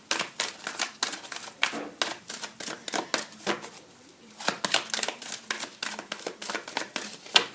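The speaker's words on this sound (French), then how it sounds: "Je vais retirer 2 cartes." Cards drawn from a deck during a tarot-style reading: a rapid series of crisp flicks and shuffling snaps, close up, with a short lull midway and a faint voice in the background.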